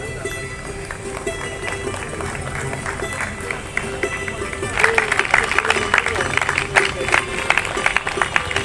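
Audience applause at a Savarkar Jayanti gathering in Jalgaon: a speaker's amplified voice talks at first, then a crowd breaks into loud, sustained clapping for the last few seconds.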